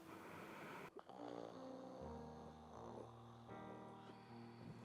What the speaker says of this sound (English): You're snoring too much. I can't sleep.